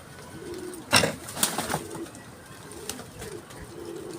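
Pigeons in a loft give soft, low, repeated coos, close by, with a few sharper clatters and rustles of movement between them; no one speaks.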